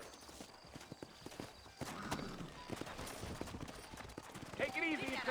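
Horse hooves clip-clopping in the Red Dead Redemption video game, a steady close rhythm of hoof strikes that grows busier toward the end, with game ambience and voices in the background.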